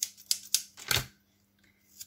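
Scissors struggling to cut through card for a handmade greeting card, four or five sharp crunching snips in quick succession and then a short pause before a last faint snip.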